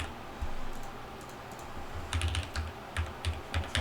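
Someone types sign-in details on a computer keyboard, logging into a web app. Soft, irregular keystroke clicks come sparsely at first, then in quicker bursts toward the end.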